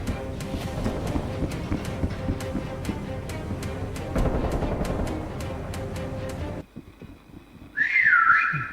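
A character whistles in a multiplayer hide-and-seek video game, a short wavering whistle that comes loud and clear near the end, after steady rhythmic game sounds and a brief drop to quiet.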